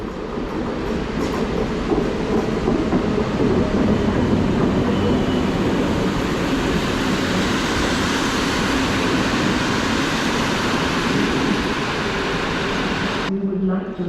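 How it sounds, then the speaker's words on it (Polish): An EN57 electric multiple unit of two cars rolls in with a loud, continuous rumble and rattle that carries on steadily for most of its length before cutting off abruptly at the end. "EN57650. Wjeżdża pociąg malinowski. Dwa wagony."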